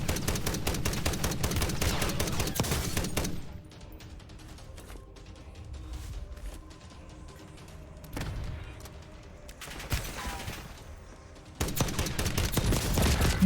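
Rapid automatic gunfire from Call of Duty Warzone with Modern Warfare II weapons rattles in loud sustained bursts at the start and end, with quieter scattered shots and distant cracks in between.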